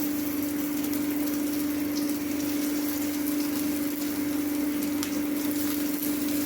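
Shallots sizzling as they go into hot oil in a pan for Kerala-style fish curry, a steady loud frying hiss with a constant hum running underneath throughout.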